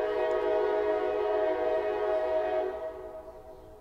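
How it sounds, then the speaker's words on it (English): A train horn sounds in a long, steady chord of layered tones, loud and sustained, then fades as it passes into the distance. "I love the sound of that train"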